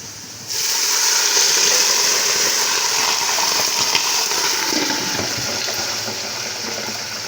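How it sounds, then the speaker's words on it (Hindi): Water gushes steadily into a cooking pot holding onions for beef pulao, a continuous hissing pour starting abruptly and running throughout, close and fairly loud. "इसमें मैं पानी डालने लगी हूँ"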